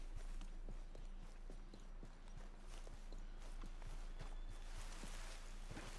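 Horse hooves clip-clop in Red Dead Redemption 2, a quiet, fairly regular run of hoof knocks over a low ambient hum, with no voices.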